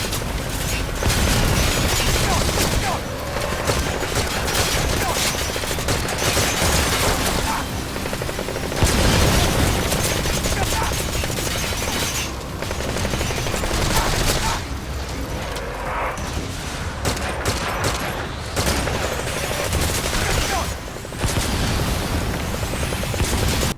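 Combat in the Metal Gear Survive video game, with mortar-like enemies lobbing bombs and firing gun-like attacks, making dense continuous gunfire bursts and booming blasts that go on loud and unbroken throughout.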